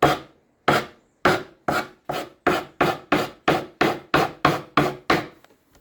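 Fabric is cut by forceful blade strokes against sandpaper glued onto an old ironing board, producing about fourteen sharp, close rasping scrapes in a steady rhythm, each fading quickly before the next.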